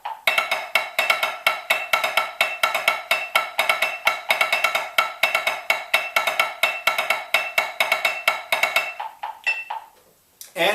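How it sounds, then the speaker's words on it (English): Solo snare drum playing a rudimental grid exercise, two beats per sticking grouping repeated, crisp rapid strokes in a steady driving pattern for about nine seconds, then stopping. "Okay, so the 2 section sounds like this."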